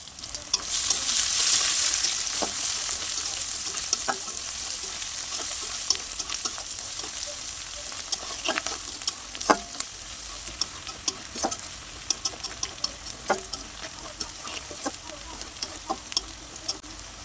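Bitter gourd fries with garlic in a pan, a steady close sizzle broken by irregular clicks and scrapes of a spatula stirring, louder at first and then settling into a quieter crackle.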